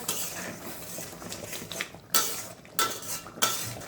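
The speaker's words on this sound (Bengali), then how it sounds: "এবার সব কিছুতে খুব ভালো মতো মিশিয়ে নেব" Chicken bharta with grated boiled egg being mixed in a pan, a utensil scraping and tapping against metal, with three sharp clacks standing out over a softer stirring bed.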